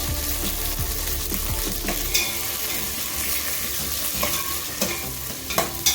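Chopped tomatoes go into a pan of softened onions for Chennai Muslim-style bagara rice and hiss in a steady close-up sizzle, with a few scraping stirs and light utensil knocks toward the end.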